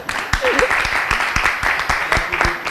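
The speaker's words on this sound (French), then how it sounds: "Ah, tu t'applaudis toi-même, ça va?" Applause at a lively French-language gathering, with scattered, irregular claps mixed with voices and talk throughout, moderately loud and close.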